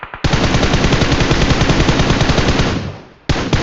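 Rapid automatic gunfire from the mobile battle-royale game PUBG Mobile rattles in one long, dense burst that fades out before a second burst starts abruptly, loud and close.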